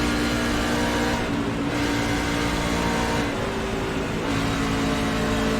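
A truck engine held at full throttle in the iRacing video game at Daytona, a steady loud buzzing drone with a faint rhythmic swell of other trucks passing alongside.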